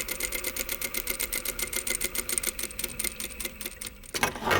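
A sewing machine stitches the side piece of a jeans pocket in a fast, steady needle rhythm that runs close and unbroken for about four seconds, then stops and gives way to a short rustle of fabric.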